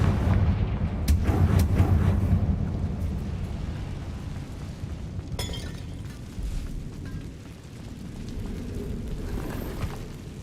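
Confringo blasting spells going off in the video game Hogwarts Legacy, making dense, loud booming explosions with cracking bursts over a continuous rumbling roar.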